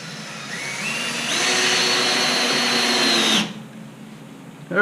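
A power drill fitted with a long Bosch T25 bit drives a screw into a fuel storage pallet on 4x4s, its motor whining loudly and rising in pitch before cutting off abruptly.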